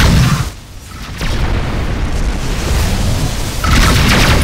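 Incoming missiles explode in the space combat game Rebel Galaxy, with loud, close booms that roll into a sustained, heavy rumble. A short dip comes before the blasts surge again.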